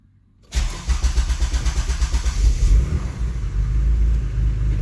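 A Mitsubishi 3000GT / Dodge Stealth running E85 fuel with an AEM EMS Series 2 engine management system, cold-started for the first time that day: a brief cranking chug, then the engine catches and settles into a loud, close, steady rumbling idle, no talking.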